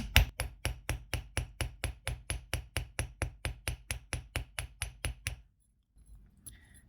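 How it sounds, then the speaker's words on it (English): Rapid, evenly spaced metallic hammer taps on copper wire, about four per second, ring out in a steady run for five seconds, then stop abruptly. "I'm going to hammer one side all the way down."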